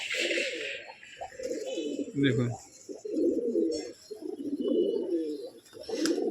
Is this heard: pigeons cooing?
yes